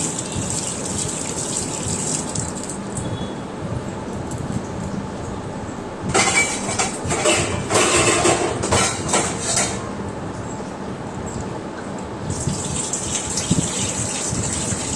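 Water gushes and splashes while brass and copper puja items are rinsed clean from a bowl, a low running flow that swells into louder splashing bursts midway, then settles back.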